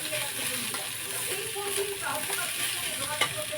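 Cashews and pistachios stirred in a hot pan while frying, giving a steady close hiss of sizzle with soft scraping and a few light clicks throughout.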